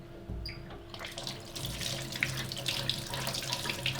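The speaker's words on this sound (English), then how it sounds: "So wash your cucumber as usual." Tap water runs over a cucumber being washed in a sink, a close, steady splashing stream that starts after a brief quiet moment and continues with small spattering variations.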